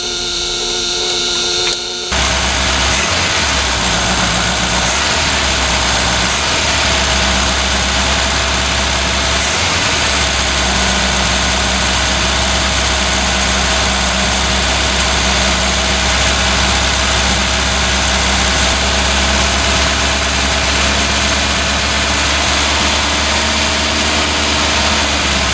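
A 1974 Ford Capri with a 2.0 Pinto engine runs steadily at idle after a brief start, a loud, close, even low rumble throughout with no talking.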